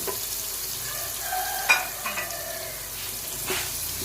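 Chicken and onions brown in a pan for shalgam chicken, with a constant low sizzle close by and a few sharp clinks and scrapes from stirring, no voices.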